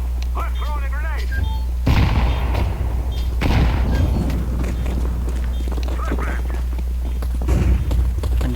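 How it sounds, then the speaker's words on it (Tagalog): Video game combat with a heavy boom like a grenade blast followed by bursts of gunfire, loud and close, while someone talks over the action and occasional music tones sit in the background. "I'm throwing a grenade."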